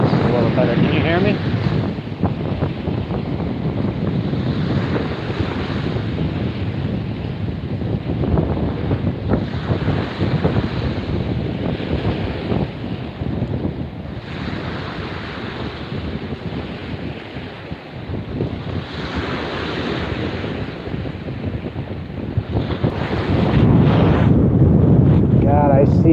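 Strong wind buffets an outdoor microphone throughout, a steady broadband roar with gusting swells and a louder blast near the end, during a nighttime orb UFO meditation session; no clear speech stands out.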